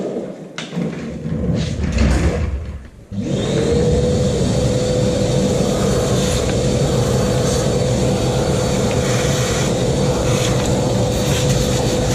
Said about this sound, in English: Just vacuum out all this brake dust.